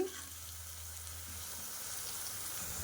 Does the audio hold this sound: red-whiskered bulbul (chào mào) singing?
no